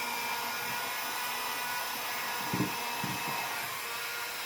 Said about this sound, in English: So turn on my heat gun.